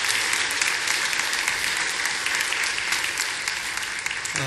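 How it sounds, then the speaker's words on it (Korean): A church congregation applauds to welcome visiting board members during a service, a dense, loud and continuous roar of clapping that holds steady throughout. "우리가 큰 박수로 환영을 하겠습니다"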